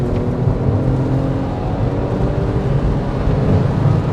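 A manual Porsche 911 Carrera S (997.1) engine holds a steady, loud, high-rpm roar near 6,500 RPM, with a dense, even tone throughout and no pauses.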